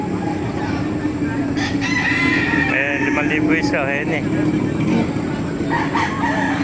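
A rooster crows with rising, wavering calls over a noisy background at a chicken market in Baliuag, Bulacan, while someone talks throughout.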